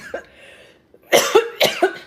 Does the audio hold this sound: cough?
yes